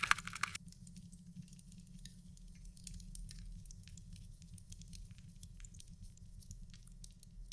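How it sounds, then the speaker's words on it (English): An iron rod stirring and scraping ashes in a medieval cottage hearth, soft gritty patter and small scrapes going on steadily and close by, faint and with no voices. "You take an iron rod and gently stir the ashes. Scrape, scrape."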